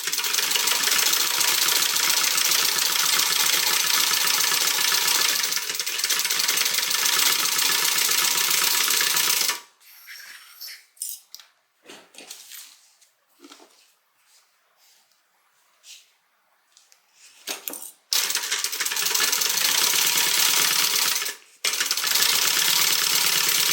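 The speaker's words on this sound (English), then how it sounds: "So let me stitch that on and then we will top stitch." A sewing machine stitches a crossbody bag in steady, loud runs, with a pause of quieter handling sounds in the middle before stitching resumes.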